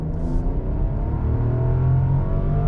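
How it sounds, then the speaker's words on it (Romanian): A 2023 Rolls-Royce Phantom Extended engine revs up smoothly, its pitch climbing steadily as it accelerates, heard from inside the car with no talk. "Și așa se aude motorul."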